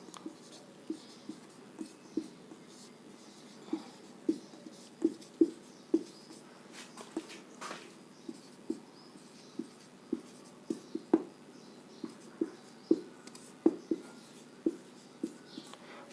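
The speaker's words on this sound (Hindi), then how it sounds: "मैं आपको यहाँ लिख देता हूँ।" Pen or chalk writing by hand in a quiet room, a run of short scratchy strokes and taps arriving in steady irregular bursts, close and fairly clear.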